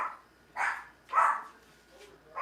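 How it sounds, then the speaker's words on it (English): Dogs bark a few times, short yappy barks spaced about half a second apart, moderately distant and fairly quiet. "I was wondering why the dogs were barking."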